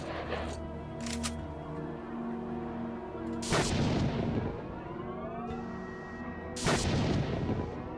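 Gunfire from the video game S.T.A.L.K.E.R.: Call of Pripyat, two loud, sharp bursts a few seconds apart, each ringing out with a long metallic tail over a steady droning game ambience.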